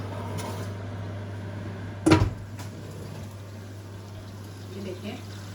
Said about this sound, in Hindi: फिर इसको ओवन के अंदर रख देंगे